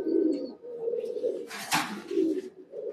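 Aluminium silver pigeons coo softly and repeatedly up close, low throaty calls with a brief rustling burst in the middle.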